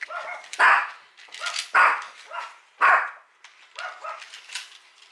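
A dog barks sharply several times in an uneven series, fairly close, with some quieter yips between the louder barks.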